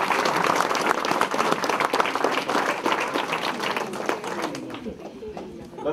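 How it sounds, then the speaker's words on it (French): Applause from the audience at the opening of an oil painting exhibition in a former cannery, a crowd clapping warmly and fairly close, with chatter mixed in as the clapping slowly thins. "On va l'applaudir quand même."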